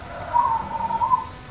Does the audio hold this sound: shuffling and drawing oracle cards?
no